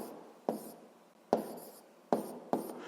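Pen or pencil scratches across paper in four short strokes, each a quick close scrape that fades out, with quiet pauses between and no talk.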